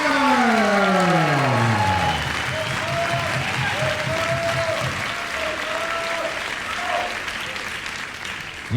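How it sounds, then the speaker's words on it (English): Sustained audience applause for a couple at the amateur Lindy Hop jitterbug dance championships at Camp Hollywood, steady and full throughout, with sliding whistle-like tones over it in the first two seconds. "huge round of applause for Cody Throne and Sylvia Schuyler"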